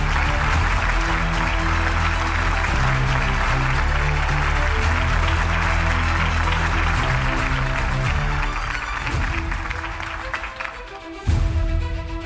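An audience claps steadily to welcome the three UCN directors onto the stage at an IPTV panel event; the applause is sustained over music, then briefly drops and swells again near the end.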